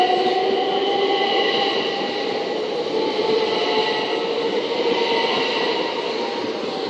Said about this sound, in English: as that train continues on to London Victoria